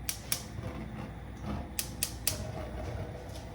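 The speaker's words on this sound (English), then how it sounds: "We turn the flame on." A gas stove burner igniter ticks in a home kitchen, several sharp, dry clicks at uneven intervals over a faint background, with a brief pause between bursts.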